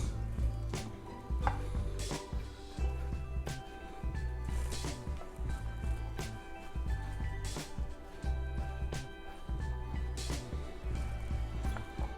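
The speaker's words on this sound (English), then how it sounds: "I'm going to go ahead and mince up our garlic." Garlic is chopped and minced with a kitchen knife on a cutting board in a home kitchen, the blade tapping in quick, irregular bursts of soft knocks over a steady background.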